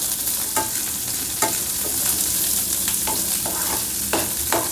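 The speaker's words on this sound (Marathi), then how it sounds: "बघा, हे सगळं असं मिक्स करून घ्यायचं।" Vegetables, roasted peanuts, cashews, beans and chopped green chillies stirred in a hot frying pan for a leftover-chapati upma: a steady sizzle with a spoon scraping at irregular intervals, no voices.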